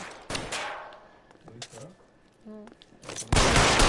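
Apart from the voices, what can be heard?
gunfire in the video game L.A. Noire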